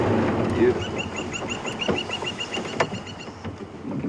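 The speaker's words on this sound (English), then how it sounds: "You can hear a woodpecker calling there." Woodpecker calling in the African bush at sunrise: a rapid series of evenly spaced high notes repeating for a few seconds, fairly distant over a low vehicle rumble.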